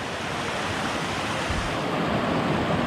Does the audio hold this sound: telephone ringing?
no